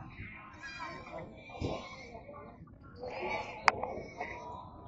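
Goats bleating at a livestock market in Kadiri, several short nasal bleats close by mixed with people talking and background crowd noise.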